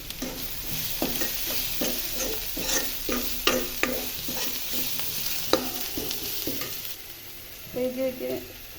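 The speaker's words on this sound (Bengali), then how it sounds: "এই দিক দিয়ে দেখতে পাচ্ছেন যে আমি কই মাছগুলো একদম লাল করে ভেজে নিচ্ছি।" Koi fish frying in hot oil in a pan, a steady sizzle broken by repeated scraping and stirring strokes with a spatula, close and fairly loud, then quieter spatters near the end.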